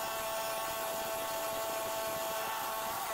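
A half-inch drive Milwaukee M18 cordless impact tool with a 1 5/8 socket works a fastener during a tilt-gate cable replacement, giving a loud, continuous close-up whirring drone with a steady tone and no voices.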